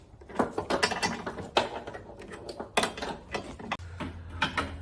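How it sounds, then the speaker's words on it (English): Metal clinks and ratcheting clicks from bolts being tightened during installation of a Toyota RAV4 OEM trailer hitch, a close series of short irregular bursts with a low steady hum late on and no talk. "So we're just tightening the screws."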